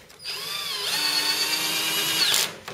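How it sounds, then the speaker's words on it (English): A power drill runs steadily, driving bolts into a Euro guest bed frame during assembly, with a rising whine near the end before it stops. "use the drill"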